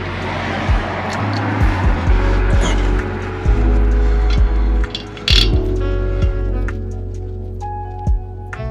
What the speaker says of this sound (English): So I can start tightening up these bolts and call it a day.